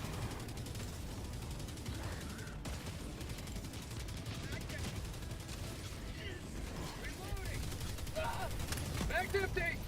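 Mortar blasts and steady gunfire in the video game Helldivers 2, a continuous rattling barrage of shots and thuds running under a speaking voice throughout.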